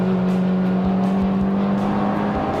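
A 2016 Honda Civic Type R driven hard through a corner after heavy braking, its engine a steady loud drone with a strong low tone throughout, heard from inside the car, no talking.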